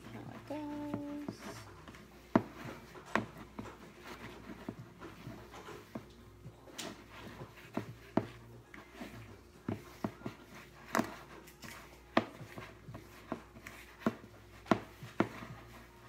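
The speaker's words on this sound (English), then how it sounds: "Let me try to mix this one by hand." Keto cookie dough for fat bombs mixed by hand in a bowl, giving irregular scraping knocks and thuds of a utensil against the bowl, spaced through the stretch with steady faint background hum and no talking.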